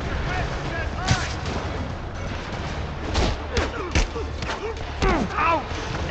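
Rocket explosions and booming blasts in the video game Spider-Man Remastered, several heavy bursts scattered across a busy, dense battle din, with faint voices and effects mixed in.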